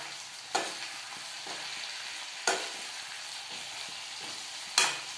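Bottle gourd pieces frying and being stirred in a pan: a soft continuous sizzle broken by three sharp spatula scrapes and clacks spaced a couple of seconds apart, close up, with no talking.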